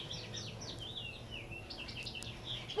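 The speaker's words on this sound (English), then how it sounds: "So you probably hear the birds chirping." Birdsong around a half-acre house lot in a natural setting: repeated high chirps and tweets from several birds at moderate distance, with a faint insect buzz and steady low background hum, no talking.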